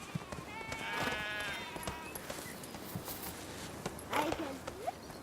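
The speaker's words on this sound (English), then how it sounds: "It's a man on a white horse." A man rides a white horse past, its hooves clip-clopping at moderate distance beneath a faint outdoor bed of other sounds, with a brief bleating call partway through.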